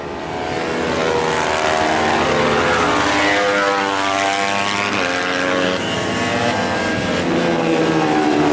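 Small MiniGP Junior racing motorcycles on a circuit, their engines droning loud and close with a rising, shifting whine as they work through the gears, alone without talk.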